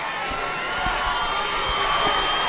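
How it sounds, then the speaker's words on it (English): A large crowd cheers steadily at a high school football championship game in Goochland, a broad, sustained roar from the stands with a few dull thumps underneath, filling the background throughout. "You listen to that Goochland crowd"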